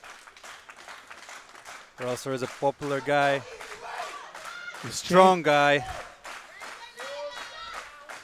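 Crowd cheers and applauds after an 83 kg world-record deadlift at a classic powerlifting world championship, a loud, swelling roar with scattered shouts running under a commentator's voice.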